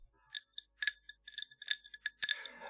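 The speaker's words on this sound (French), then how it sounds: "Juste ce bruit des glaçons qui s'entrechoquent." Ice cubes clink together in a quiet, close setting, a sparse, irregular series of bright, delicate taps and chimes, some ringing briefly and a few in quick clusters, with no talking.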